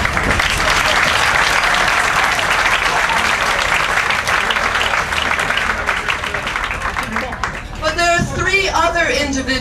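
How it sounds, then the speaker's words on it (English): A banquet crowd in Paris bursts into loud, sustained applause, dense clapping filling most of the stretch before thinning as a voice begins speaking over the end. "This is a moment to clap."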